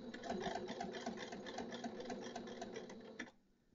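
A sewing machine stitches fabric for a mitered patch pocket, running steadily at close range with a quick, even needle rhythm before stopping abruptly near the end.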